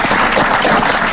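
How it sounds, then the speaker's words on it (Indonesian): Short burst of audience applause, dense and steady clapping from a crowd at an Indonesian religious talk session. "Kasih tepuk tangan lagi."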